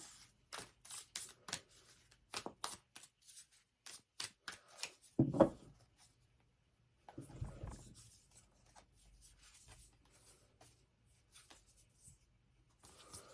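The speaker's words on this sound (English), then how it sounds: "So let me just shuffle the deck here." Tarot cards are shuffled in several quick riffling bursts, close and fairly quiet, followed by a pause and some soft rustling handling.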